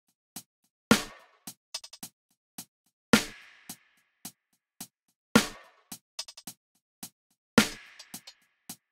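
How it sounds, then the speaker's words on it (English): Programmed drum pattern built from two hi-hats and a mix of live snares and finger snaps in a production: sparse, crisp hits with short ringing tails, repeating in a slow, spacious groove with no other instruments. "So I added these two hi-hats. Then a mixture of live snares and snaps."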